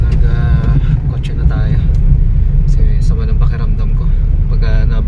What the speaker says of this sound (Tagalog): Nag kotse na tayo